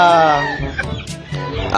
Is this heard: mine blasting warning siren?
no